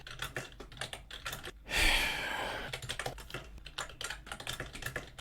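Rapid, steady clatter of keys on a computer keyboard while entering commands into a programming language REPL, close and clear, with a brief louder rustling burst partway through and no talking.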